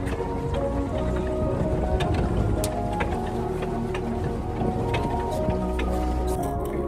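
A motorboat turns out on open water. A loud steady engine rumble and churning water fill the scene, with wind buffeting and faint voices.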